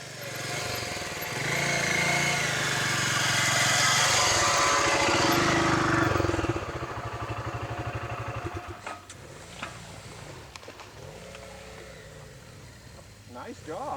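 A small motorbike engine revs hard and loud while climbing a hill, then drops to a lower, choppier idle with a few short throttle blips, as people talk nearby.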